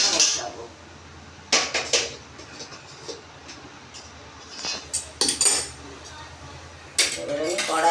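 A gas stove being lit and a wok set on the burner in a home kitchen, with several sharp metallic clanks and clicks scattered over a quiet background.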